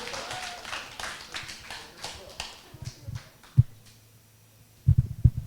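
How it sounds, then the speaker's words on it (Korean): Audience clapping at a youth church worship service, a burst of scattered hand claps that thins out and fades, followed by a few close, loud thumps and soft murmurs from the room. "박수 한번 쳐주세요"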